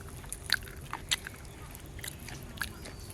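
Soft chewing and biting of rice eaten with mashed cauliflower bhorta at a home lunch, faint scattered crunches and mouth sounds over quiet room noise.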